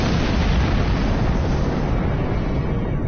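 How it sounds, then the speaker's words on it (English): A tricobalt mine detonates in the Star Trek Online space combat video game, producing a loud, dense, sustained rumbling blast that fills the whole stretch without letting up. "Your mine explosion deals a lot of damage to me."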